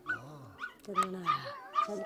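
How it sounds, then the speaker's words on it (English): A little puppy gives several short, high yips and whimpers in quick succession, close by, with people's voices talking around it. "It's that little puppy."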